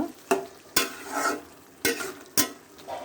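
Ingredients for a dried fish curry with chopped tomato are stirred in a pan, four sharp scraping strokes over a low sizzle, close and with no talk.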